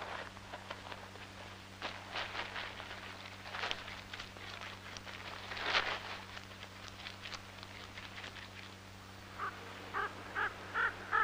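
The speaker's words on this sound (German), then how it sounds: "Hier sammelt und versteckt ein Nusshäher die Samen von Zirbelkiefern." Spotted nutcracker gathering and hiding stone pine seeds in winter, giving harsh, rasping crow-like calls in a short irregular series, moderately near, with some rustling and pattering between calls.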